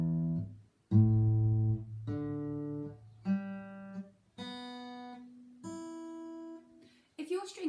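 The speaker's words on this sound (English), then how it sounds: "The open strings should sound like this." Six in-tune open guitar strings plucked one at a time, from lowest to highest, each note ringing clearly and fading before the next.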